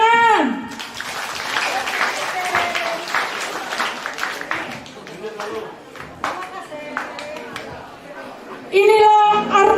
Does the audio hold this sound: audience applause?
yes